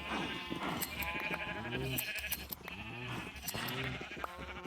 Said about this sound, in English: shear the sheep.